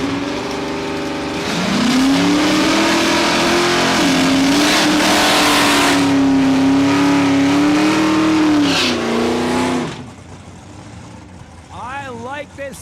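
A drag racing car, a Challenger, blasting down the strip at Saskatchewan International Raceway: a loud sustained engine roar rising and holding for several seconds, then dropping away abruptly, leaving faint distant engine noise.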